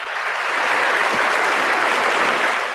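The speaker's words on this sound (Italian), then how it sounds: "Beccati anche tu la tua reazione di applausi" A sustained wash of applause from a radio show sound effect, loud and dense, with steady clapping from start to end and no voices.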